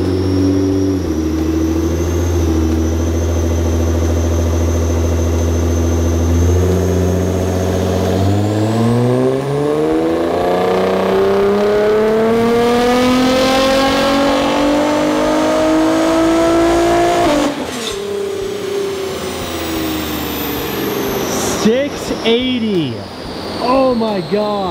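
A tuned Nissan R35 GT-R with over 700 hp revs hard on a dyno, its engine climbing steadily through long loud sweeps with backfire pops and crackles near the end.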